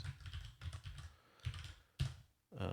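Keys clatter on a Windows computer keyboard as a command is typed, a faint close run of quick irregular clicks in short bursts with brief pauses, with no speech.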